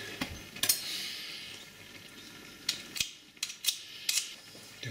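Leek mix with crushed garlic being stirred in a pan, a scatter of light metallic scrapes and clinks of a utensil against the pan, spaced irregularly with quiet gaps and no talking.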